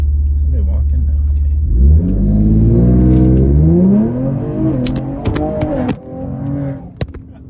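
A Ford Explorer ST revs hard against the foot brake on a road for a launch, a deep rumble climbing into a loud rising roar for a couple of seconds before dropping away, with clicks and faint talk after.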